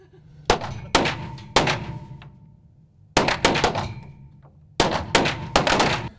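Gunfire at an indoor shooting range comes in three groups of loud, booming reports that ring and reverberate off the walls, with several shots in each volley.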